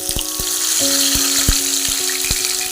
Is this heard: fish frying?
yes